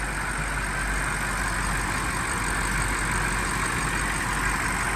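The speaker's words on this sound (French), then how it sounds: "Un V8 biturbo. Avec 600 poneys à l'intérieur." A BMW M5 F90 with a twin-turbo V8 of about 600 hp and 100,000 km on it idles steadily and close by, a smooth, continuous low rumble with no talk over it.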